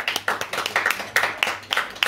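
Audience clapping at a literary afternoon conference for Women's Day: a run of sharp, fairly close handclaps in an uneven rhythm over about two seconds, with no voices.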